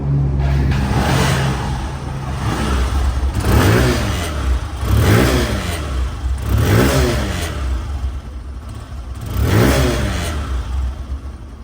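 A Hero Ignitor Xtec motorcycle engine revs repeatedly, rising and falling in about four surges over a steady running drone, loud and close, no talking.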